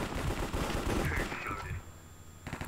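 Rapid gunfire from the Minecraft Cops and Crims minigame crackles in a dense, loud burst, then tapers into quieter echoing shots near the end.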